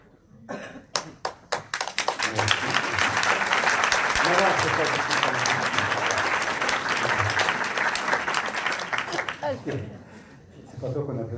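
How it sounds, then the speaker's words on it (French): Audience applause after a conference on mediumship, a dense burst of many hands clapping that builds quickly, holds steady for several seconds, then thins out, with voices talking over it at the end. "C'est pas toi qu'on applaudit"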